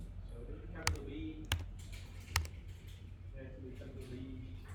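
A few distinct computer keyboard keystrokes tap out a short word, spaced irregular clicks close by in a quiet room, with faint background hum.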